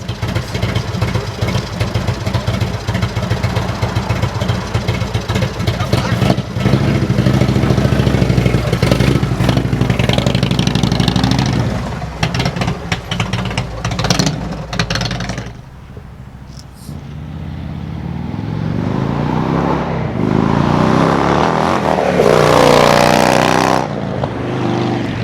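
An Indian motorcycle fitted with new Rob's Dyno Performance suspension roars loudly and close on a test ride, its engine revving and rumbling steadily before easing off and then building again.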